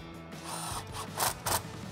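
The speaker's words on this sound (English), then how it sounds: "Grab an 11 millimeter socket and tighten that guy down." A ratchet with an 11 mm socket tightens the intake clamp on the throttle body of a 2019 RAM 1500 5.7L while an aFe cold air intake is fitted: faint, brief ratcheting with two short clicking bursts, close by.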